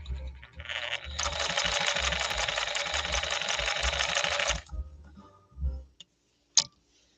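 A 1950s Pfaff 130-6 sewing machine stitching cotton fabric runs in a steady, fast mechanical chatter for several seconds, then slows and stops, followed by a few isolated clicks and taps.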